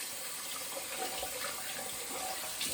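Water trickles steadily from a tap while shaving lather is being mixed, a continuous close, moderately loud running wash with small splashes and no talk.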